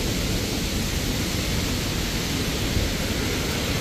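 Thoseghar waterfall near Satara roars as a dense, unbroken broadband rush, loud and steady from start to finish with no voices over it.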